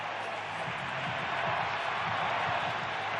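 Steady roar of a stadium crowd at a San Francisco 49ers NFL football game, a dense sustained wash of cheering and noise that stays loud and even throughout, with no clear individual voices.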